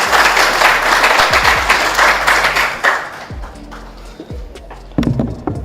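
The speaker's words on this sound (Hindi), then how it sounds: "आप सबकी भरपूर तालियों में मैं दावत दूंगा यासिर शामी को।" Loud audience applause welcoming a speaker on stage at a talk event, dense clapping for about three seconds that thins into scattered claps, then a brief burst again near the end.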